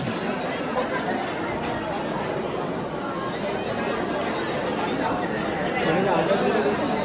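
Dense crowd chatter from a packed temple pilgrimage procession, a continuous babble of many voices close around, steady throughout with a slight rise near the end.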